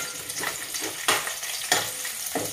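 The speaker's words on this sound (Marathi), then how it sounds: "तेल थोडं गरम झालं ना की यात आपण कांदा, लसूण आणि कढीपत्ता जो आपण फोडणीसाठी घेतला होता ना तो घालूया।" Onion, garlic and curry leaves frying in hot oil for a Malvani-style egg curry tempering, a steady close sizzle with a few louder crackling bursts as the pan is stirred.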